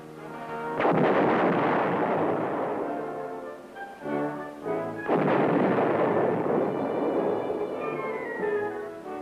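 Two heavy artillery guns fire during army gunnery training, each a loud booming blast with a long rolling echo that fades out, the second shot coming about four seconds after the first.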